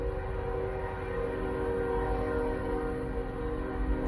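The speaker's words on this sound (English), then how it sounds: "I hear there's a train somewhere." A steady low rumble with a sustained horn-like tone, like a train passing somewhere in the distance, continuous and unbroken.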